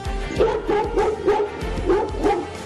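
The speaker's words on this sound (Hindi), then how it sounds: "एलेक्सा, कुत्ते की आवाज निकालो।" An Alexa smart speaker plays a dog barking sound, a quick series of about six yapping barks in rapid rhythm, loud and close, with no talk over them.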